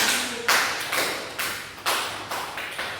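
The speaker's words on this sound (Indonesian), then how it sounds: "berikan aplaus untuk pertanyaannya" Scattered applause in a classroom during a micro-teaching lesson, a few short bursts of hand claps rising and fading at irregular intervals, fairly light and close.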